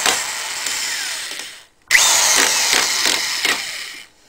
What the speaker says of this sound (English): That's a clutch. This is a screw gun.